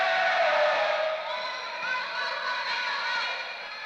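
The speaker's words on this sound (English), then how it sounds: "Enthusiastic crowd here this evening for girls volleyball" A crowd at a girls' homecoming volleyball game cheers loudly and continuously, a dense roar of voices that swells at first and then settles to a steady level.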